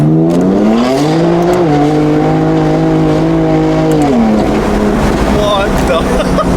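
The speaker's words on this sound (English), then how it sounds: "And that wasn't a burnout in any sense, it was just me accelerating." A BMW M4 accelerates hard, its loud, close engine note rising in pitch through the revs, then dropping at a gear change before it climbs again.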